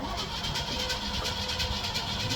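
An old truck engine turns over and runs steadily after the gas pedal is pumped, a rough, close idle with a faint pulsing chug.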